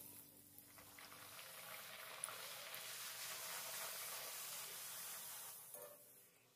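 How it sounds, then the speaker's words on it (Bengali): Green pea kachoris deep-fry in hot oil, giving a steady, soft bubbling hiss that holds evenly throughout, close but fairly quiet, with no voices. "একই রকম পদ্ধতিতে আমি সমস্ত কচুরিগুলো ভেজে নিচ্ছি।"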